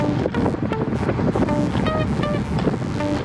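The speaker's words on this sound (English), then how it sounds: "And listen to that wind." Wind buffets a microphone while cycling into the wind on a road group ride, a loud, steady roaring rush with constant low rumble filling the whole stretch.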